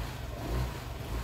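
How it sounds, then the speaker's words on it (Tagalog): A motorcycle engine given a small rev with all its lights switched on, a brief low rumbling rise and fall, close and steady, with no talking. "Konting rev lang."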